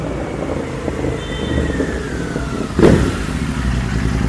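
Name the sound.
motorcycle arriving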